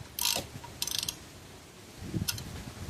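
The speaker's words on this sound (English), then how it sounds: "you just have to keep going until you get to the even portion of the tapping tool" A threading tap is turned by hand in an oil pan drain hole, producing short bursts of metallic ratcheting and grinding clicks separated by brief pauses, close and moderately quiet.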